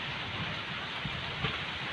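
Steady rain pours over the Mekong Delta countryside during the season's first downpour, a dense continuous hiss close to the eaves of a house with no voices.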